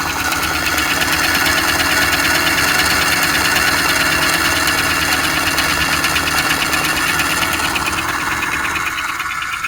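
The engine of a model train set runs steadily and fairly loud, a continuous buzzing mechanical drone with fine rapid pulsing and no surging.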